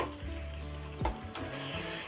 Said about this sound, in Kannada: ಇದೇ ಜಾರಲ್ಲಿ ನಾನು ಒಂದು ಜಾರ್ ಆಗುವಷ್ಟು ನೀರು ಹಾಕೋತಾ ಇದ್ದೀನಿ